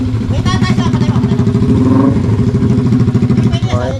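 A motorcycle engine idles and revs close by with a steady mid-pitched pulsing throb and some clatter, running continuously under people talking.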